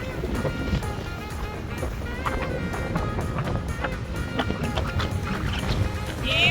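Wind blusters loudly across the microphone with constant rumbling gusts on the Isle of Man, mixed with scattered clatter and faint background noise throughout.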